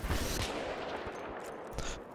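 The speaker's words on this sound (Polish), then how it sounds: "O, dwa strzały w głowę i koleś pada z pistoletu." Pistol gunshots in the video game Battlefield 3, a quick pair of sharp cracks near the start and another burst later, over continuous dense gunfire and battle noise.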